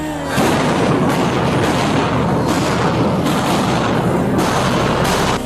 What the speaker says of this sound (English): Police fire rubber bullets at students as cops reclaim the building from occupying protesters